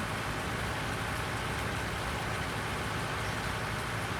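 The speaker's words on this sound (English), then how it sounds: "I'm going to get through this rain" Steady rain pours in the open-world survival game Nevada ZA, a dense, even hiss of falling drops with a faint low rumble beneath, constant and unbroken throughout.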